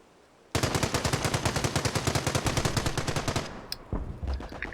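A machine gun nest in Company of Heroes, a World War II strategy game, fires a long rapid burst of evenly spaced loud cracks for about three seconds. After it stops, softer scattered battlefield sounds follow.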